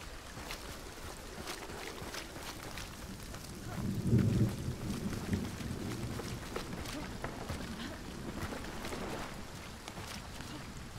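Steady rain hisses through a stormy scene in the game Hunt: Showdown, with a low rumble of thunder swelling around the middle before easing back under the continuous downpour.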